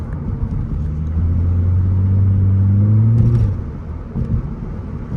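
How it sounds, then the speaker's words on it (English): A straight-piped Nissan Altima engine revved hard, its loud, raspy exhaust note climbing and holding for a couple of seconds before dropping back to a rough idle with a few short blips, close by and alone. "pumping the gas like that, does that hurt the car at all?"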